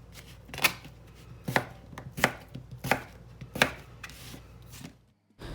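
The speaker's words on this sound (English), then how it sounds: "So here we are dicing up our taters" A knife dices potatoes on a cutting board with six crisp, evenly spaced chops, close and clear over a quiet background, with no talk.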